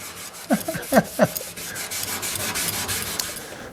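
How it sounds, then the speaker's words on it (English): Scotch-Brite pad scuffing the frame of a 1951 Chevrolet rat truck, a soft, close scratchy rubbing in quick strokes, with a brief voice sound near the start. "So I'm first just going to scuff it a little bit with this Scotch-Brite type thing."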